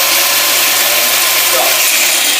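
Several Milwaukee M18 Fuel 125mm cordless angle grinders and a corded grinder spin at full speed side by side in a Rapidstop braking test, a loud steady high-pitched whine that holds throughout without a break.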